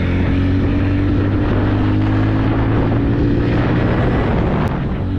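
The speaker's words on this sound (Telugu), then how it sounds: "ఎగ్జాస్ట్ నోట్ చాలా ఇంప్రెసివ్గా ఉంది" TVS Ronin 2025 motorcycle engine running hard at high RPM, a loud, steady droning exhaust note with strong low harmonics and wind rush, continuous and close with no talk.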